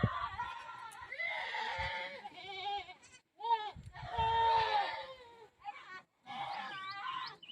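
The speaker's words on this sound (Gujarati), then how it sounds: "જોજો હમણાં ઓલું ઠેકડા ચડે છે ઓલી બકરી મારે છે" Goats bleat again and again in quavering, wavering cries, some overlapping and others separated by short gaps, fairly close by in a farm setting.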